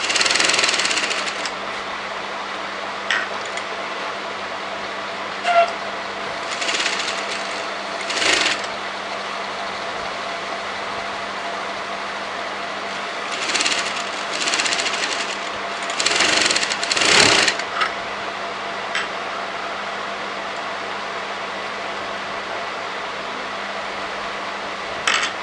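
A sewing machine stitches fabric for a kurti shawl collar in short bursts of rapid mechanical whirring, starting and stopping several times over a low steady hum in a quiet room.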